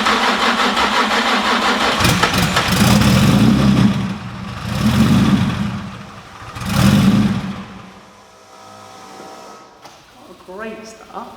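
A Nissan 350Z twin-turbo engine fires up for the first time: loud cranking surges, three rising revs that swell and fade, then it settles and cuts out, with people talking nearby.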